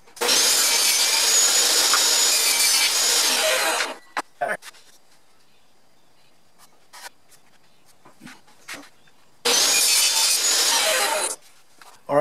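Cedar fence board blocks for a bluebird box are cut with a power saw, two loud sustained cutting passes separated by a quiet stretch of small knocks and handling sounds, with no talking.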